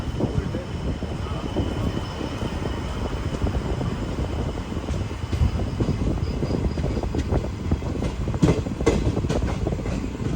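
Rajya Rani Express, a sleeper and 3rd AC economy train from Nilambur Road, rolls into Kochuveli railway station in Thiruvananthapuram, with a steady loud rumble and rail clatter throughout and some voices under the noise.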